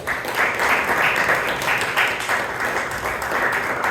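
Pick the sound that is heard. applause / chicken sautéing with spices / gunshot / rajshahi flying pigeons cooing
applause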